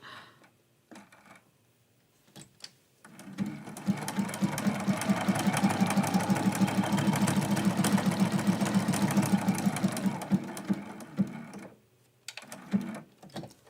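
A sewing machine stitches a Christmas quilt block in a loud, steady run of rapid needle strokes lasting about eight seconds, with soft handling noises before and after.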